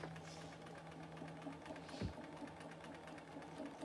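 A sewing machine stitches steadily at a moderate pace, a continuous mechanical whir with a faint rhythmic chatter and one brief knock midway, no voices present.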